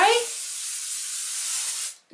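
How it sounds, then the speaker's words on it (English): One continuous hiss of hair spray from an aerosol can during hair styling, close and steady for about two seconds before it stops. "Give ourselves a little spray."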